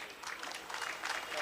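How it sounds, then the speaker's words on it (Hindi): Audience clapping at an award ceremony, a dense, steady patter of many hands that holds at a moderate level and swells slightly toward the end, with a voice faintly underneath. "आपको ताली अभी आपको सुनाई दे।"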